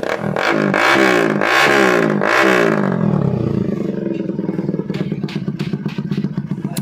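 A motorcycle fitted with a loud SC Project exhaust revs hard in three sharp rising blasts, then drops to a rough, loud, rapidly pulsing idle, close by with no talking.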